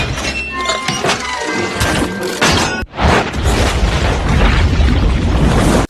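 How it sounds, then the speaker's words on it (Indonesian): A loud booming explosion erupts midway, followed by heavy rumbling and crackling debris that fills the rest of the sound, with busy noise beforehand. "Para monster pun kena jebakan meledak yang Zack buat."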